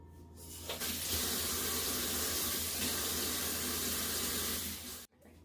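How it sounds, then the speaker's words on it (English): Tap water runs steadily from a faucet as hair is dampened before dyeing it silver, a close, continuous hiss that holds for about five seconds and then cuts off abruptly. "I'm getting the hair damp with just a little water."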